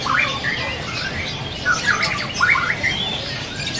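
An adult oriental magpie-robin calls in a bird shop, giving repeated sharp chirps and squawky whistles over a steady noisy background of other caged birds.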